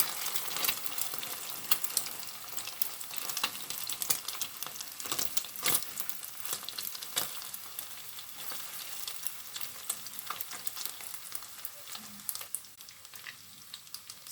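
Eggs sizzle and crackle in a frying pan while being crumbled and stirred, with a steady hiss broken by scraping clicks of the utensil, close and with no talking.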